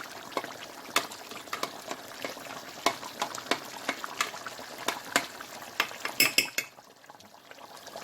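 Chicken curry for a large batch of biryani cooks on high flame, a steady frying sizzle broken by frequent sharp metal clicks and scrapes of a ladle against the pot, quieting near the end.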